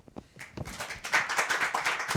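Audience applause closing a book presentation talk at a webinar, a dense patter of many hands that builds quickly and holds steady, fairly soft and alone.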